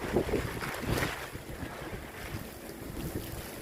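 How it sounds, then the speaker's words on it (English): Strong wind roars and buffets the microphone at St Lucia Estuary beach during a storm surge, with surf churning underneath in a steady, loud rush and a few heavier gusts. "the wind is blowing"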